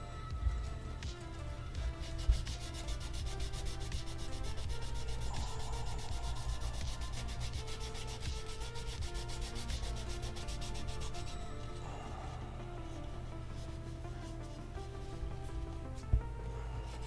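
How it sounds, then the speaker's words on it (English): Rhythmic sandpaper strokes rubbing along a seam on a plastic model fuel truck kit, close and quiet, a repeated scratchy back-and-forth with no talking. "I want to sand it first"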